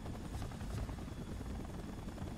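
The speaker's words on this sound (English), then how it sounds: "Probably a helicopter." A helicopter in the Spider-Man 3 video game thrums with a steady, dense rotor drone that stays loud and constant throughout the brief moment.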